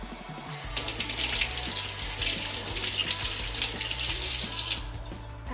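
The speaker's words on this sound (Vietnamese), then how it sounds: "Mình sẽ rửa trứng lại dưới vòi nước cho nó sạch." Boiled eggs rinsed under a running kitchen tap, a steady hiss of flowing water that starts abruptly, runs for about four seconds and then cuts off.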